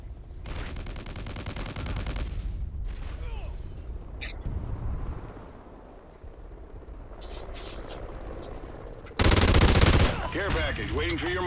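Bursts of automatic gunfire in the multiplayer combat game Warhawk, a free-for-all match, sounding loud and continuous with game effects and a sharper burst near the end, while a player talks over it.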